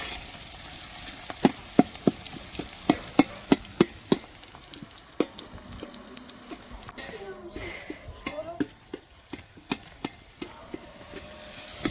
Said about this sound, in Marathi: त्याच्यामध्ये आपण लांब चिरलेला कांदा तेलामध्ये भाजून घेतला।